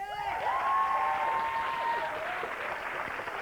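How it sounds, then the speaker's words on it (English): A television studio audience applauds steadily throughout, with a few cheers and whoops rising over the clapping. "Please welcome back James Martin."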